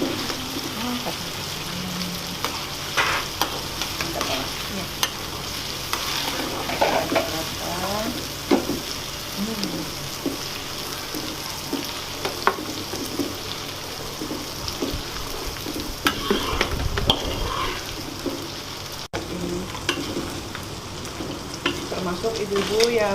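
Ground peanuts fry and are stirred in a hot pan while fish siomay is being made. A steady sizzle runs throughout, broken by frequent scraping stirs, all close and alone.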